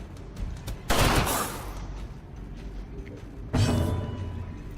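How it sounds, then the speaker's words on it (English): Grapeshot blast fired in the Darkest Dungeon game: two loud, broad bursts of scattered gunfire about two and a half seconds apart, each decaying over a second over a low ambient game bed. "I'm going to go ahead and grape shot them."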